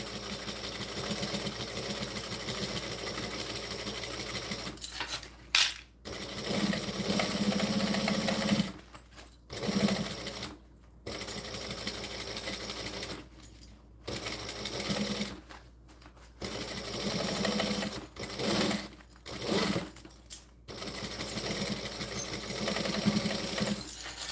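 A sewing machine stitches in a series of runs broken by short pauses, its steady mechanical whir close and fairly quiet, with no one speaking.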